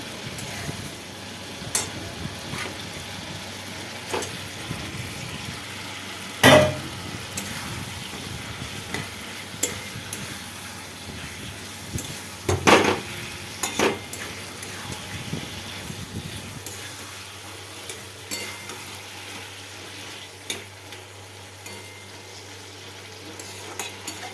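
Meat frying in a spiced masala, a steady sizzle with occasional sharp scraping clinks as it is stirred, the tone shifting lower as the pan settles later on.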